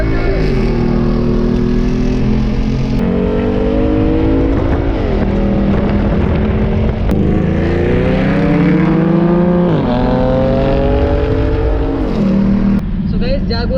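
A BMW M8 and other supercars lapping a racetrack on a track day, loud engines droning and shifting pitch as they accelerate and change gear in repeated surges, with someone talking over the engine noise.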